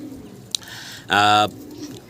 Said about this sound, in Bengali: এই কবুতরগুলা শখ ভাই লালন পালন করেন